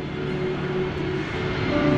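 An airplane flies over Mumbai, India, as a steady, continuous engine roar that holds at an even loudness for the whole stretch, with no voices.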